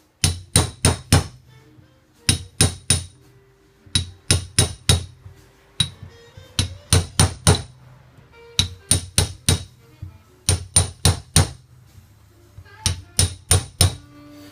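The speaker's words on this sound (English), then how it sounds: "So lots of hits, not hard hits, consistent, steady taps." Light, steady hammer taps seating cane into the channel of a parlour-style chair seat, fired in quick bursts of four or five even hits separated by short pauses, close and clear with no talk.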